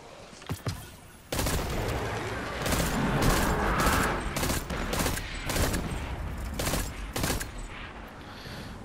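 Pulse rifle fire from Destiny 2 crackles in steady, evenly spaced bursts after a couple of opening shots. The reports are loud and close, with a few pauses between volleys.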